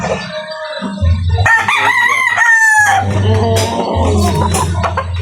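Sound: young rooster (sota) crowing

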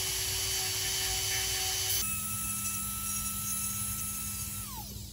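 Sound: power tool grinding cured repair material on ceramic

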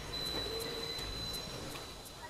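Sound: train

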